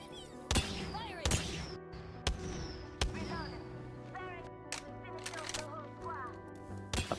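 Gunfire in the battle royale game Apex Legends, several sharp separate shots spaced over a few seconds amid game effects and music, with a voice talking over it.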